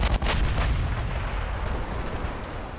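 Battleship main guns fire in the naval game Ultimate Admiral Dreadnoughts: a couple of sharp, booming reports open, then a deep, heavy rumble rolls on and slowly fades.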